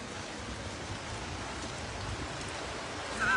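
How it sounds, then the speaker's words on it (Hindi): Heavy rain pours during a storm at a main bus stand, a steady moderate hiss of falling water that continues evenly throughout with no voices. "ये देखिए किस तरह से शानदार बारिश का दौर शुरू हो चुका।"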